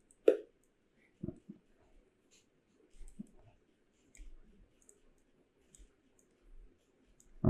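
Computer mouse clicking while working in Canva, a handful of soft, separate clicks spaced irregularly across a quiet background, close and fairly faint, with no talking.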